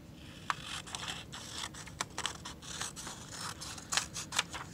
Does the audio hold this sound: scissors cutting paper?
yes